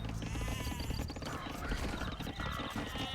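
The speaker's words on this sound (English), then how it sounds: "Blue's capturing, slaughtering the sheep one at a time." Sheep bleating in the Age of Empires 2: Definitive Edition strategy game, heard amid a dense, continuous wash of game sound effects and music at steady volume.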